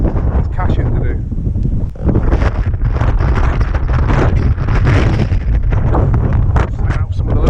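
Strong wind buffeting the microphone on a high rocky hilltop, loud continuous roaring gusts that nearly drown someone speaking underneath.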